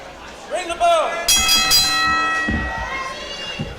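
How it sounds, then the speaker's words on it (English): A wrestling ring bell rings to start a match at a live indoor wrestling event in Miami, a bright clanging tone ringing out over crowd noise and the commentator's voice. "All right, the bell sounds."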